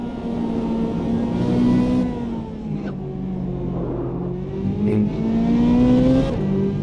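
A Chevrolet Corvette C8 supercar in the Automobilista 2 racing sim, its engine droning steadily at sustained high revs with pitch rising and dipping through gear changes, loud and continuous with no talk.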